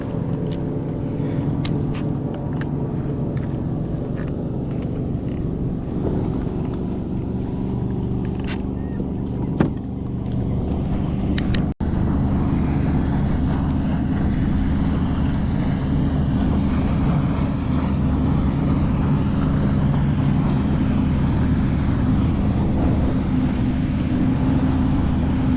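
A fishing boat's engine drones loudly and continuously on a fluke fishing trip, with wind rumbling across the microphone and a few brief knocks.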